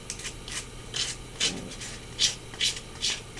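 Rhythmic rasping strokes of sandpaper on wood, about eight passes at a steady pace, close and fairly quiet.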